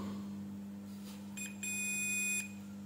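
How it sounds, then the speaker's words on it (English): A multimeter set to continuity or diode mode while testing an SMD DB3 diac gives a faint, steady electronic beep lasting under a second, over a low background hum. "Set multimeter to continuity or diode mode. Now it is giving continuity."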